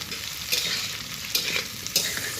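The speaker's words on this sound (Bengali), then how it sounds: "দিয়ে আবার কিছুক্ষণ ভেজে নিচ্ছি।" Ginger, garlic and tomato sizzle in a pan for chicken kosha, with three distinct scraping stirs of a spatula over a continuous hiss of frying.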